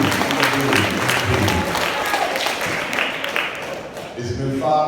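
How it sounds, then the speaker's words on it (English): Audience applause and crowd noise for a pastor at a speaking event in Oakland, a dense, steady roar of clapping filling the whole stretch, close and loud, with some voices mixed in. "Give a round of applause to the pastor."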